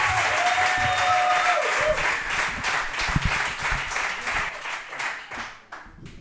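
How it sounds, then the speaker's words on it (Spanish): Loud audience applause for Toni Lomba, dense steady clapping from a crowd that swells and then tapers off near the end, with a few faint voices beneath. "Un fortísimo aplauso para Toni Lomba"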